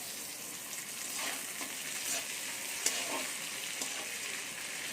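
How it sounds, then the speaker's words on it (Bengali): Chopped onions sizzle steadily in a hot pan while being stirred, with occasional scraping and clinking over a constant frying hiss and no voices. "এবারে পেঁয়াজ তো দেখুন হালকা ভাজা হয়ে এসেছে এবার এর মধ্যে আমি টমেটো কুচিটা দিয়ে দেবো"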